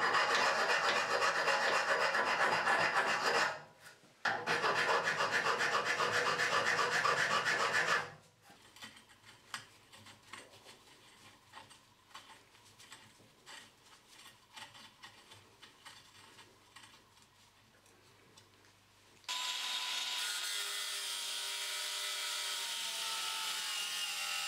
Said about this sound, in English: we're just going to clean them up with a file and then put a